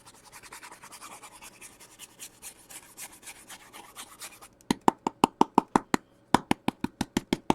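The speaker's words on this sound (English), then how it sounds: "And I'm not even rubbing that hard." A hand rubs across a mixed media craft surface with a soft, scratchy back-and-forth rasp, followed by a quick run of sharp, evenly spaced taps close to the microphone.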